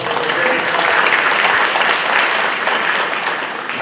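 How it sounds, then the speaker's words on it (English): Steady, loud applause from the audience at a September 2019 Laurel Highlands School District board meeting, a thick continuous patter of many hands honoring service members, tapering slightly near the end. "Everybody give these folks another round of applause."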